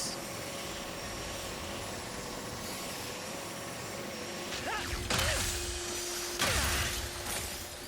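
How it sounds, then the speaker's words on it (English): Bolts being collected in Ratchet & Clank: Rift Apart, heard as a couple of bright metallic jingling bursts that rise out of a constant humming game backdrop, close and moderately loud. "So satisfying collecting these bolts"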